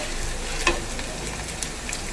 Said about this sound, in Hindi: और ये इसका तड़का होता है।